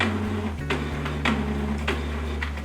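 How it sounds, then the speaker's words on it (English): A Canon PIXMA G-series inkjet printer powering on for the first time, a low steady motor hum with soft mechanical ticks and clicks repeating at irregular intervals. "I power the printer for the first time."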